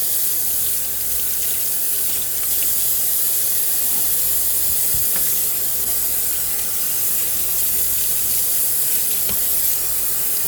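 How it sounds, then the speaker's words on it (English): Steady hissing spray of water from a kitchen sink sprayer rinsing a cutting board, close and continuous for the whole stretch, with faint splashing and clatter underneath. "I rub my hand across it as it rinses"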